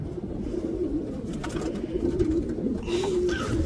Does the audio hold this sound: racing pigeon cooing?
yes